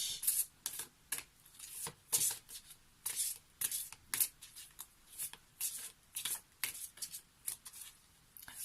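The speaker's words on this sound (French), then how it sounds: "On va prendre une carte issue de l'oracle des esprits de l'eau" Oracle cards are shuffled in a steady series of crisp, riffling bursts, close and fairly quiet, each flurry separated by short pauses with no talk.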